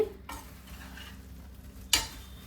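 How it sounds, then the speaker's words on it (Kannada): A spoon scrapes and stirs soya chunks coated in masala in a frying pan, with a soft steady sizzle underneath and a louder clack of the utensil near the end, close up with no talk. "ಸೋಯಾಗೆಲ್ಲ ಮಸಾಲ ನೀಟಾಗಿ ಅಂಟ್ಕೊಳ್ಳಿ, ಅದರಿಂದ ನೀಟಾಗಿ ಮಿಕ್ಸ್ ಕೊಡಿ"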